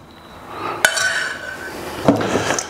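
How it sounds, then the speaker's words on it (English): Crispy chicken wings are tossed in hot sauce in a bowl, making a brief clatter of a sharp knock, then wet shuffling and another clink near the end, close and fairly loud. "just give them a nice jumble around in that hot sauce"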